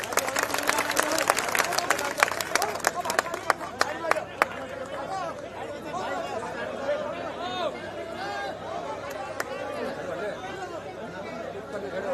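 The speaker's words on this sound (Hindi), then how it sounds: "माननीय आकाश आनंद जी जोरदार तालियों से वेलकम" Rally crowd in Haryana claps to welcome Akash Anand, with a burst of sharp, scattered handclaps for about four seconds that gives way to loud crowd chatter and murmuring.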